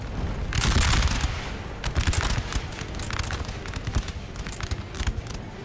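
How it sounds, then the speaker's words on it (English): Massed musket volleys in a Napoleon: Total War battle, four infantry units firing on an artillery position: a dense crackle of overlapping shots, loudest early, then continuing in irregular bursts with no talk. "We have 1, 2, 3, 4 units firing on this one position here"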